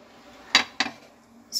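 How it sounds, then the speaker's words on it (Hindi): A lid is set onto a pressure cooker full of grated carrots for carrot halwa: two sharp metallic clanks in quick succession, then a faint clink at the end, in a quiet kitchen. "और अब हम इसको ढक देंगे"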